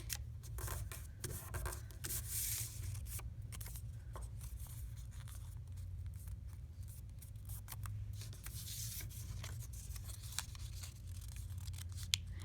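Paper pieces being folded for paper bracelets, with quiet close rustling, rubbing and creasing sounds in soft bursts over a low background hum, no talk.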